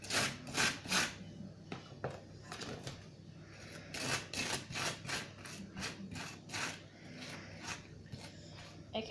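A knife scraping butter across hot toast, a series of dry rasping strokes in uneven bursts, close and fairly quiet, with no talking.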